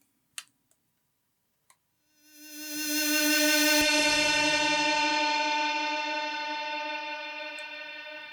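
A sustained, shimmering Dubreq Stylophone tone, played through a Zoom MS-70CDR shimmer reverb with slow attack, swells in slowly after a few soft clicks, ringing with a bright, airy reverb tail that gradually fades.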